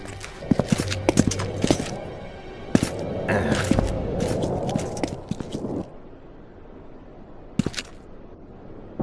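Horse hooves clopping in The Witcher 2: Assassin of Kings, mixed with short thuds and other game sounds, a steadier busy stretch in the middle, then quieter with a few sharp hits near the end.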